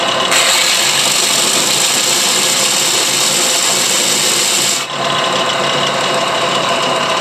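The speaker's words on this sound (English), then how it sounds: "So I'm simply going to turn the sander on." A sander grinds flat a large concretion holding a huge fossil snail, a loud, dense, steady roar that runs continuously for almost five seconds, then drops away abruptly as the machine stops.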